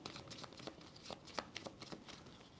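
A solo-bot deck of board game cards gets a quick shuffle, soft rapid riffling and flicking taps close by, fairly quiet, with no talking.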